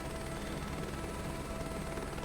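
A helicopter flies on a crop-dusting job in Microsoft Flight Simulator 2024, its rotor and engine giving a steady, dense whirring drone with no pauses, faint in level.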